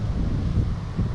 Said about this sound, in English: Maybe it's because it's windy